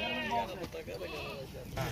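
Rajanpuri cross goats bleating at a goat farm, a few wavering bleats near and moderately loud, mixed with someone talking over them.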